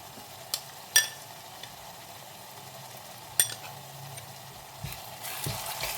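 A ginger, garlic, chili and coriander paste sautés in hot oil for mutton, a soft steady sizzle broken by a few sharp spoon clinks against the pot and light stirring scrapes.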